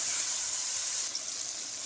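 Tomatoes and yogurt frying in a pot for mutton pulao, giving a steady, close hiss of sizzling that eases slightly toward the end.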